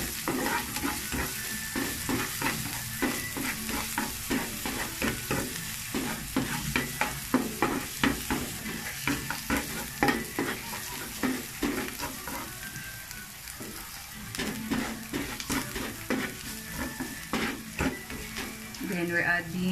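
Ginger and garlic fry in a tablespoon of oil in a pan for pork broccoli, a steady close sizzle broken by repeated rhythmic scraping and stirring strokes, with a voice speaking now and then over it.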